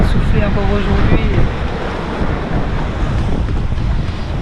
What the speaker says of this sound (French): Le vent il va continuer de souffler encore aujourd'hui.